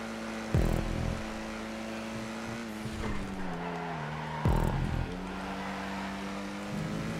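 A racing car engine held at full throttle in a video game drones with a steady, buzzing roar whose pitch sags and climbs, broken by a couple of loud, abrupt thumps.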